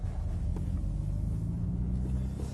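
Mercedes-Benz 190E 2.3-16 making a U-turn in second gear: a steady low engine drone with cabin rumble, heard from inside the car at an even level throughout.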